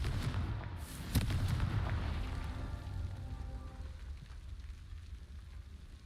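Confringo fire-blast spell from a Harry Potter video game, a sharp blast at the start followed by a rumbling, crackling roar that slowly fades.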